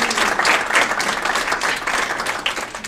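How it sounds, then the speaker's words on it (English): A banquet audience claps together in steady, dense applause that stays loud and close throughout the full three seconds. "So let's give ourselves a round of applause."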